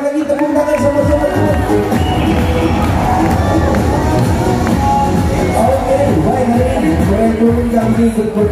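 An audience at a dolphin show claps and cheers, with children shouting and whooping in a loud, continuous, close crowd roar.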